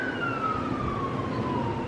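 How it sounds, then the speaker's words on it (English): A siren wails continuously with a slowly falling pitch, steady and fairly loud over a background rumble, with no talking. "Okay, we've got some sirens going on."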